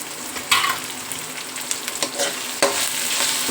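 Curry leaves and capsicum fry in a pan with salt, sizzling steadily at close range. A few sharp scraping stirs cut through the sizzle, and nobody talks.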